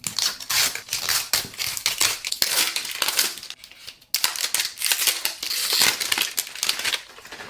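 Scissors cut through the cardboard and plastic packaging of a miniature food mystery box, making a close series of sharp snips, scrapes and crinkles in irregular bursts with a brief pause midway, with no talking.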